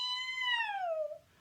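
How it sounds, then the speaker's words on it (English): A single loud, drawn-out cat meow that slides downward in pitch and trails off, heard alone. "Meow, meow, meow."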